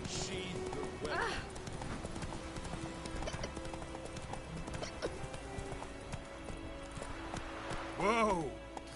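The horse Roach in a video game, steady clip-clop of galloping hooves throughout with a couple of whinnies, voices talking over it.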